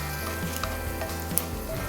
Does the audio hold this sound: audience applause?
no